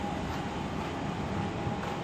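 A train pulls out of a station on a snowy day, giving a steady mid-level rolling rumble with a faint high whine throughout, heard from the platform without talk.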